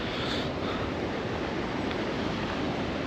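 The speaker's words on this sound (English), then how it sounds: "No way is there a mini waterfall." A small waterfall on a river gives a continuous broadband rush of falling water, steady and fairly loud, with no speech.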